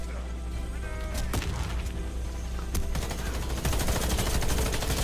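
Gunfire from the military shooter game Warface, a dense stream of automatic rifle bursts and sharp single shots rattling close and loud over a constant background din, growing heavier toward the end.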